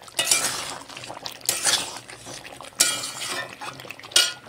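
Goat head curry being stir-fried in a pan over high gas, with bursts of metal clatter and scraping from a spoon against the pan in four distinct rhythmic strokes, close and fairly loud.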